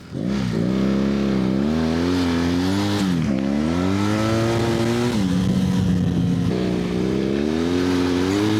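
Dual-sport motorcycle engine, a Kawasaki KLR 650, droning loud and close during a rally ride, its pitch rising and falling through gear changes and throttle swells with no pauses.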